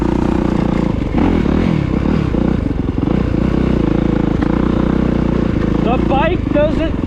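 A 2023 Kawasaki KX450SR dirt bike engine drones loud and steady while being ridden, with rising pitch as it shifts through gears, and a rider talks over the continuous motor noise.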